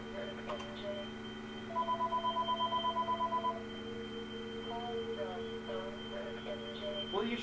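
A house phone rings with a repeating electronic trill over game music in an indoor setting, rising clearly for a couple of seconds, while someone talks over it.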